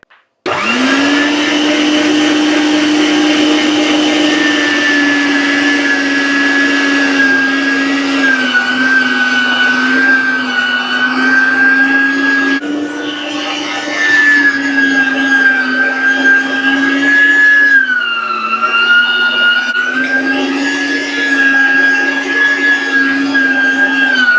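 A steady, loud electric motor whine runs continuously for the whole stretch, with slight dips in pitch as the machine works under load.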